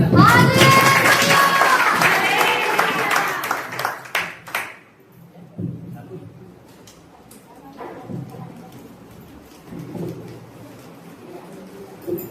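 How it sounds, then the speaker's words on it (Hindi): A worship congregation claps hands in a dense, rhythmic burst alongside singing and music for the first few seconds, then the clapping thins out into quieter scattered sounds. "आप ताली बजाइए।"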